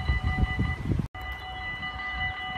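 A freight train rumbles past in Maasbracht with low rolling noise and steady tonal hum, loud and close, with a brief dropout midway.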